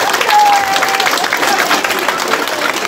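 An audience of middle-school students and guests at a school event in Charny applauds a student, a loud, dense burst of clapping that fills the room, with voices mixed in.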